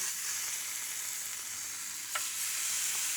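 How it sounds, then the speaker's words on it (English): Marinated pork belly pieces cooking on a Korean barbecue grill give a steady, even hiss of sizzling fat, close and unbroken, with one faint tap and no voices. "So on with pieces of marinated pork belly."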